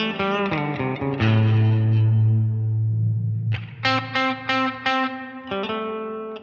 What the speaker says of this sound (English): The reverb jumps all over the note as soon as I hit it